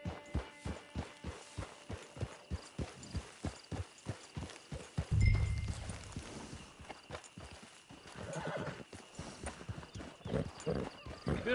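Horse hooves clip-clop at a steady walking rhythm in Red Dead Redemption 2, close and clear. A low thud and a brief whinny break the pattern midway, then the hoofbeats continue more loosely.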